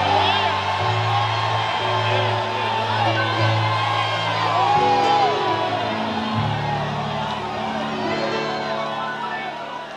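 A church congregation at a 2005 service shouts a cry of glory: a loud, sustained mass of whoops, yells and cheering voices swells and overlaps throughout.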